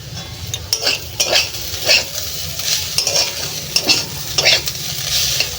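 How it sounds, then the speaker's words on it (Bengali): Vegetable peels (chocha) are stir-fried in a pan in a Bengali home kitchen. A spatula makes rhythmic scraping strokes over a loud, close sizzle, with no speech. "আর এই চোচা ভাজতে না অনেক টাইম লাগে।"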